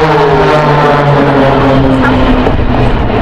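Blades aerobatic team aircraft fly overhead at an air display, giving a loud, continuous engine drone with slowly shifting pitch and no talk heard.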